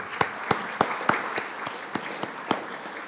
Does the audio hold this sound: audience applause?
yes